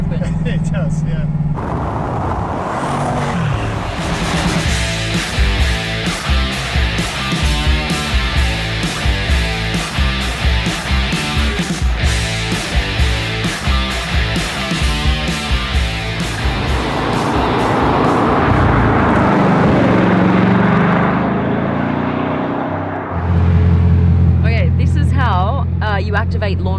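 Bugatti Chiron Sport engine loading up under launch control, a loud, sustained heavy roar with pulsing rhythm that swells, then settles into a deep steady rumble near the end, alongside occasional voices.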